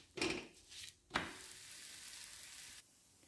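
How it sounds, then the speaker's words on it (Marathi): Layered masala paratha roasts with oil in a hot pan on a gas stove, giving a faint, steady sizzle broken by a couple of brief clatters near the start, then fading to quiet. "गॅसवर इथं पॅन ठेवले आहे आणि आता हे गरम झाल्यानंतर यामध्ये आता हे आपण थोडंसं तेल लावून दोन्ही बाजूने शेकून घेऊ"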